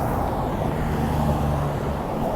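Steady, loud roar of traffic on a main street, with cars and heavier vehicles passing close by in a continuous wash of road noise and no voices.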